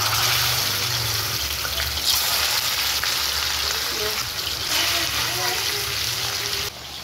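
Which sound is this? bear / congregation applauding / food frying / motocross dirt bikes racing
food frying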